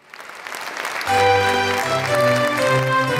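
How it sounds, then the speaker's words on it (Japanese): Applause at a wedding party as the wedding cake is brought out, a swelling burst of clapping that rises and then continues under bright cheerful music. "うわー、すごい拍手。 みんな喜んでくれているね。"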